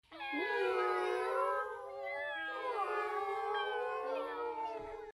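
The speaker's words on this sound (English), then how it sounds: "Grey cat." A grey cat gives long, drawn-out wailing meows, close and clear, in two sustained rising and falling calls with no other sounds.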